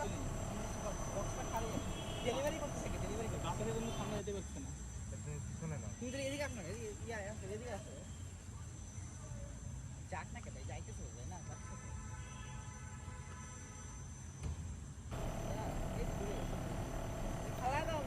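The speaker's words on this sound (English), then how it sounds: "Now the drone is releasing the parcel successfully, turning around and return to the original position" A GPS-waypoint delivery drone with an Arduino flight controller and servo payload buzzes steadily in flight, its rotor whine shifting in pitch as it maneuvers, a fairly quiet, continuous drone throughout.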